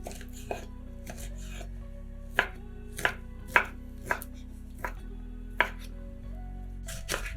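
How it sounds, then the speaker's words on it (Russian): A knife cuts 150 grams of ham into small cubes on a board, a series of crisp, separate chops at an uneven, unhurried rhythm, close and clear with no talk. "Для начинки берем 150 грамм ветчины и нарезаем ее небольшими кубиками."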